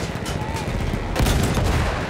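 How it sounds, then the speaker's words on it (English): Machine gun fire in Battlefield 1 during a muddy World War I assault: rapid, dense rattling bursts close by, continuous and loud with no pause. "machine guns are holding our lads back"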